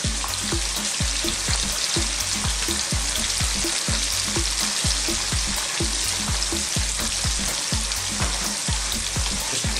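Cornstarch- or flour-coated chicken pieces fry for orange chicken in a steady, loud, dense crackle of hot oil that holds constant throughout, close and alone with no talk.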